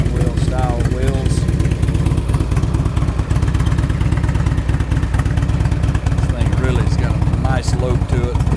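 A Harley-Davidson Screamin' Eagle Ultra Classic motorcycle idles with a loud, steady, lumpy engine throb and clatter close by, while someone talks over it throughout.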